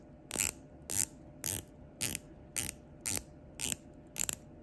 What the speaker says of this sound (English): Bezel action is great.